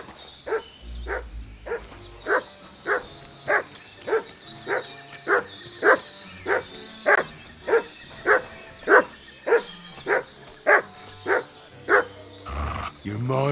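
Steady, evenly spaced barks from a dog in Kingdom Come: Deliverance II, about a dozen in a row at a regular rhythm, loud and close over a low ambient background.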